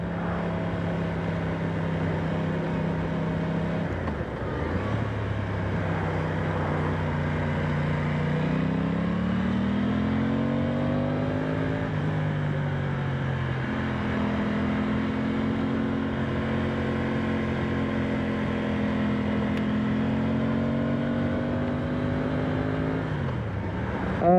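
An Aprilia Tuono 660 Factory motorcycle engine drones continuously while being ridden, a loud steady hum whose pitch sweeps up and down with throttle changes, with no talking.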